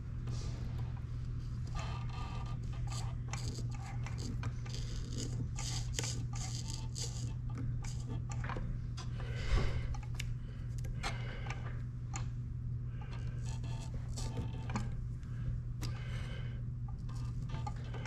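A new razor blade slicing through the thread wraps of a flag-pattern fishing rod wrap, giving many small close ticking and snapping cuts in an irregular rhythm over a steady low hum.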